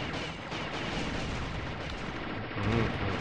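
Gunfire from the most powerful weapon in the Alien Shooter video game, a dense, continuous roar of rapid shots with no break, loud and steady throughout, with a slightly heavier burst near the end.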